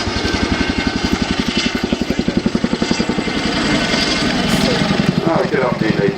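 A Boeing Chinook Mark II twin-rotor helicopter at the RIAT 2012 air display gives a loud, rapid, rhythmic rotor thumping with a steady engine roar, under an announcer speaking over the public address.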